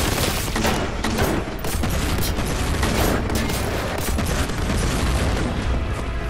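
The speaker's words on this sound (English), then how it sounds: "Explosions galore." Nonstop barrage of explosions and gunfire in Warhammer 40000: Boltgun, dense overlapping booms and blasts, loud and close with no break.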